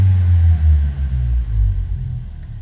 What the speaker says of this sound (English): we're gonna grab some mufflers and just literally hold them onto the end of the pipes. See what that sounds like.